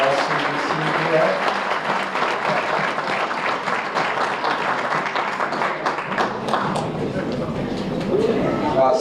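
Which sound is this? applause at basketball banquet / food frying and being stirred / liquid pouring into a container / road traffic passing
applause at basketball banquet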